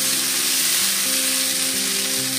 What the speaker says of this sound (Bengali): তো এখন আমি 10 মিনিট ভালোভাবে কষতে থাকি